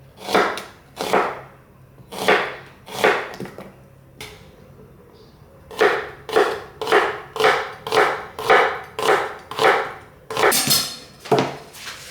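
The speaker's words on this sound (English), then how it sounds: "Cut two purple onions here." A knife chops purple onions on a board in rhythmic bursts of sharp, close strokes, first in spaced groups, then after a short pause in a quicker, steady run.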